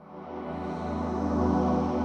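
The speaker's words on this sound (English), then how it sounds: "So you get these gorgeous washy pads" A soft, washy synthesizer pad from a Korg Wavestate mkII swells gradually and sustains, its timbre slowly evolving and shimmering without distinct attacks.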